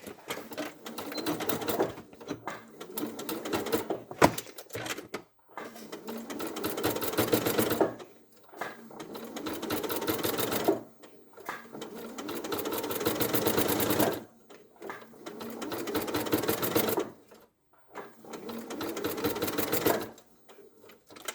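A sewing machine stitching around the foot pad of a teddy bear, running in repeated bursts of rapid mechanical chatter separated by short pauses, close and fairly quiet.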